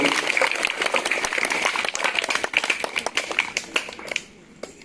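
Applause at a government high school birthday celebration for an English teacher, with students clapping densely and steadily at close range for several seconds before it thins out and fades.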